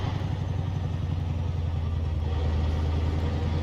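A simulated heavy truck engine in American Truck Simulator rumbles steadily with a low, pulsing drone, heard close and continuous with no talking.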